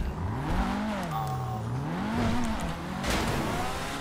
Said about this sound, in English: This car is a nice car to drive around in.